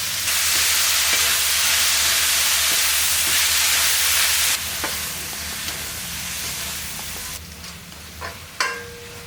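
Chopped keerai greens sauté in a pan, making a loud, dense sizzle that softens partway through, with scattered clicks and scrapes of stirring and a sharp knock near the end.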